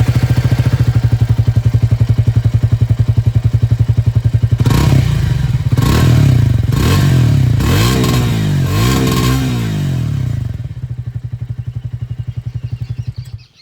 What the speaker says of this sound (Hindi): अब मैं आप लोगों को यहाँ पर जो ट्रायम्फ स्पीड T4 है उसकी जो आवाज़ है वो भी मैं आप लोगों को सुना दूँ